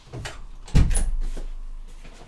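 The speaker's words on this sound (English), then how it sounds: "Let me close the door there." An indoor door swings shut with a single solid thud, followed by a short fading rumble in a quiet room.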